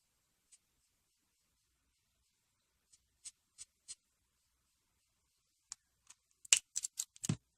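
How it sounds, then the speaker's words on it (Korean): Felt-tip markers colouring a tulip postcard on paper, heard as a few faint, sparse ticks and short scratchy strokes, ending in a quick cluster of louder, rubbing scribbles. "마카를 이용해서 하나하나씩 칠해줍니다."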